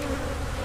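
Honey bees buzzing at an open hive during a honey harvest, a dense continuous drone that stays close and even throughout.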